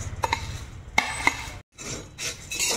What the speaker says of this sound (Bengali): তো এবার কড়াতে দিয়ে দিচ্ছি, অল্প আঁচে ভাজতে হবে